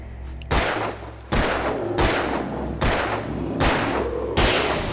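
Gunshots in the Alan Wake video game, six loud, evenly spaced blasts roughly every 0.8 seconds, each with a long ringing tail, no talk.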